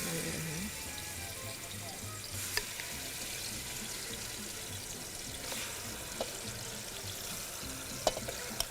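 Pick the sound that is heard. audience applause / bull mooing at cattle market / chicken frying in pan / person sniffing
chicken frying in pan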